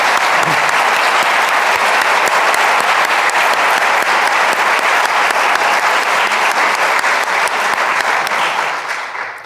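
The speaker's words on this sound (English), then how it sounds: "Can we have another round of applause for Scott?" An audience at a bicentennial opening ceremony applauds loudly and steadily for about nine seconds, with the clapping tapering off slightly at the very end.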